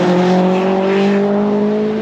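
A twin-charged Mitsubishi Evo at a car show holds a loud, steady engine drone as it accelerates away. The close tone rises slightly and continues without a break.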